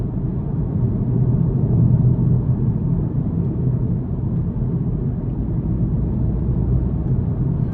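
A turbocharged four-cylinder engine in a 2022 Volkswagen Passat SE pulls in sport mode. Inside the car it comes across as a steady low rumble and hum, fairly loud, swelling slightly midway, with no talking.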